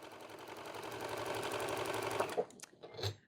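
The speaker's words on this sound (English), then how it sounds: "Now we're just going to start stitching all the blocks together." A sewing machine runs a steady, fast, whirring straight stitch with a short stitch length as quilt blocks are sewn together. It runs close and continuous for about two seconds, then stops, leaving a few soft clicks and handling sounds.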